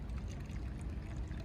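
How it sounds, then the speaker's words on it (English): Liquid pours from new camp coffee gear outdoors, a short, steady gurgling stream close by, with no talk. "how fast does this actually pour? Let's see."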